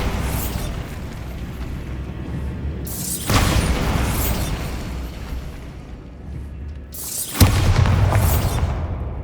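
Bombarda blasting spells go off in Hogwarts Legacy, with two loud booming explosions that each follow a rumbling buildup, plus a sharp crackling burst near the end.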